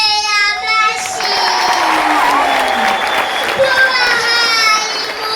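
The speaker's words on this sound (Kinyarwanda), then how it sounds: "intwari z'u Rwanda tubakomeye amashyi" A large crowd claps loudly and steadily at a Rwandan Heroes' Day ceremony in Musanze, with children's voices and cheering mixed in and sung or chanted voices rising over the applause.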